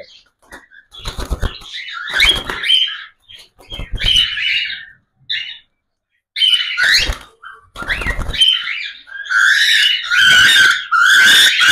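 A lutino cockatiel, a 12-month-old adult held in the hand, gives loud, close, harsh screeching calls in repeated bursts with short pauses, growing more insistent toward the end; no one speaks.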